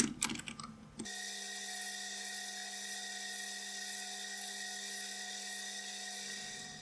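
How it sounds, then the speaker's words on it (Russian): Lathe turning a threaded workpiece with two nuts screwed onto the thread. A few clicks give way to a steady, sustained machine whine with a constant pitch that holds evenly until it winds down at the end. No one speaks. "Обточил заготовку"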